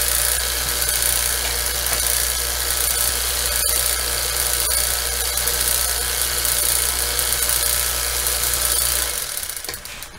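A vacuum pump runs on a refrigerant recovery tank, giving a steady, loud mechanical drone with a constant hum that holds for most of the stretch, then cuts off and winds down near the end.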